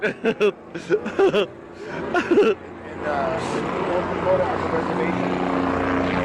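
People talk and chuckle at first, then a helicopter flying overhead takes over as a steady, fairly loud rotor and engine drone for the last half.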